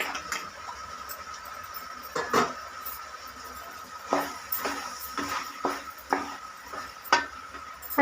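Mint, coriander and curry leaves being stirred into veg pulao in a pot, scattered scraping and clinking of a spoon against the pot over a low steady sizzle, with irregular knocks.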